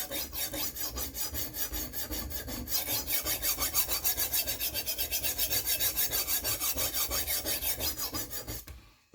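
A knife blade is drawn across a sharpening stone in steady sweeping strokes, a close rhythmic rasping that repeats quickly and evenly for about nine seconds with no talking.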